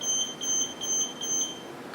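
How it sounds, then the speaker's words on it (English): An AmiCane electronic cane gives a series of high, steady electronic beeps while powering on, evenly spaced and fairly faint, with no talking. "We need to keep them pressed for a few seconds until we hear 4 distinct electronic beeps."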